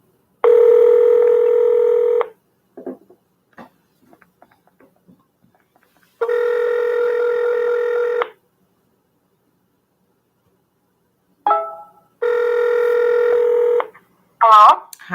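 A phone keypad plays dialing tones while a call is placed: three long, steady, loud tone bursts separated by silent gaps, with a few faint clicks and short chirps in between.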